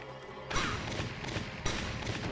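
Two sharp, loud headshot gunshots in the Valkyria Chronicles video game, spaced about a second apart, each a sudden broadband crack with a trailing decay and no talk.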